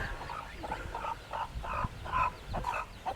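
A mother hen with her chicks on a farm clucks in a quick repeated series of short calls, fairly close, with faint chick peeps and rustling beneath, no voices.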